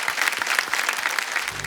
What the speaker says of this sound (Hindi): तालियों के साथ हम स्वागत करते हैं।